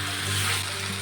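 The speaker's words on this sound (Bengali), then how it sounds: "এখন ভেজে রাখা বেগুনটা দিয়ে দেবো।" Spiced potatoes and fried eggplant sizzling in a pan for a Bengali pabda fish curry, a brief, steady, close hiss of frying with no talk.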